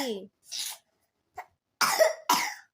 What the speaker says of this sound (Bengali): ও কি যে কাশি